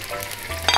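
Chili oil hits a hot wok with a sudden loud sizzle and crackle partway through, close up and alone, following a quieter stretch of cooking noise.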